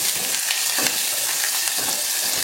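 Small shallots and garlic cloves frying in hot oil in a pan for a Chettinad-style tamarind curry, giving a steady, close, loud sizzle with faint stirring, no one talking.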